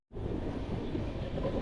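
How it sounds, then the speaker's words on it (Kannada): Train rumbling steadily as it sets off from Kengeri railway station toward Ramanagara, a continuous low rolling noise with no voices, close and even throughout. "ಅಂತಿಂತು ಕೆಂಗೇರಿಯಿಂದ ಟ್ರೈನ್ ಸ್ಟಾರ್ಟ್ ಜರ್ನಿ"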